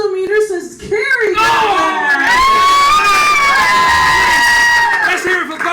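A live game-show audience cheers, whoops and applauds for the contestant Cary, a loud and continuous crowd roar with many shouting voices that holds strong throughout.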